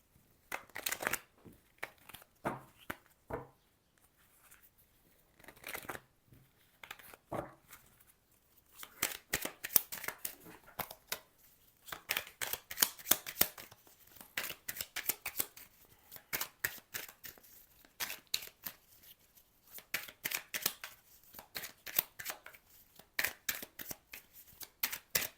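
A deck of oracle cards is shuffled by hand: soft, dry riffling and flicking in uneven bursts, sparse at first and then denser and more continuous, quiet and close.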